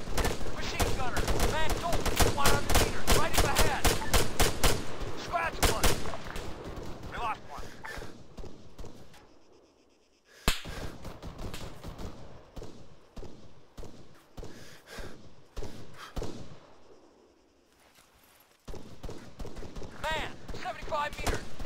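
Machine-gun fire in the military game Arma 3: sustained loud rapid bursts early on, then scattered shots and pauses with brief silences, while soldiers shout over the firing.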